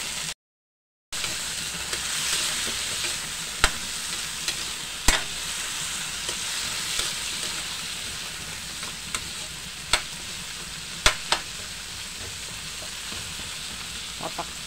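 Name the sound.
sautéing sweet potato and malunggay in a pan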